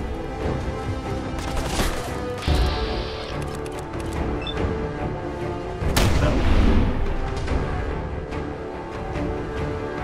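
Repeated heavy booms and blasts in a busy Fallout 4 game soundscape, with a loud explosion around the middle and a chaotic, gunfire-like crackle throughout.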